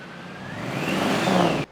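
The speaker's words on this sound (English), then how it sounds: "you get the blower whine" A supercharged car running with its new exhaust gives off a rising blower whine over the engine note, swelling briefly and loudly before cutting off abruptly.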